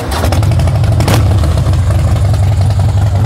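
A Harley-Davidson Heritage Softail Classic motorcycle idles nearby with a loud, deep, steady rumble that carries the even throb of its engine throughout, with one brief rev lifting above it.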